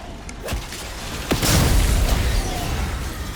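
An explosion in the Call of Duty Black Ops 6 Zombies video game erupts with a deep, rumbling boom that swells after a couple of sharp cracks and lingers as a loud, sustained roar.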